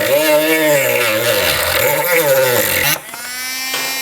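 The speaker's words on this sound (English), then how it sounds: "I'm just gonna try a Dremel tool with kind of a cutting wheel and just try to cut around it here" A Dremel rotary tool with a cutting wheel cuts into a motorcycle windshield on a Kawasaki KLR 650, giving a close, high-pitched whine that rises and falls with the load, then settles into a steadier free-spinning tone.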